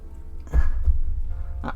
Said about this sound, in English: That noise you can hear, if you do not know, that is my paint mixer.